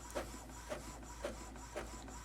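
An Epson EcoTank ET-2800 printer running a test page, giving a steady mechanical whir broken by four regular clunks about half a second apart, close and moderately quiet with no talking.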